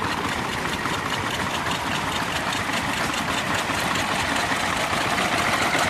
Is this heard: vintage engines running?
yes